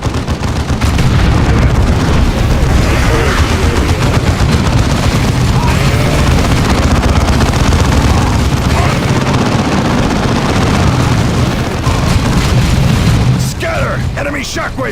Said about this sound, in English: Grenade that target.